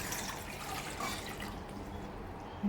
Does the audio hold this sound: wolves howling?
no